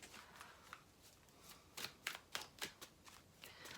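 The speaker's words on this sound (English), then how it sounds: "we're just going to give this one a good shuffle" Tarot cards are shuffled close up in a flurry of crisp riffling snaps, quiet at first, then a denser burst of rapid flicks.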